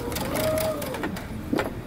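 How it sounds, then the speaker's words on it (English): A sewing machine backstitches a 5/8-inch seam on a DIY wrap dress, running in a steady close whir with short bursts as the stitching reverses direction. "Okay, now I'm going to backstitch."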